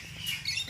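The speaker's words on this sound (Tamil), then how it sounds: "இப்போ நீங்கள் பார்க்குற பறவை பேர் காக்டைல்" A cockatiel at a bird park chirps a few quick, bright tweets, close and fairly faint, with soft background noise between calls.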